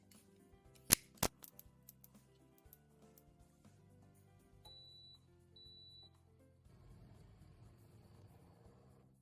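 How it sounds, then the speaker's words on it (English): Scissors snipping through long strands of dried daikon radish, two sharp close cuts early on followed by softer handling and rustling of the dried strips, with a faint beep midway. "so I'll cut it into lengths with scissors"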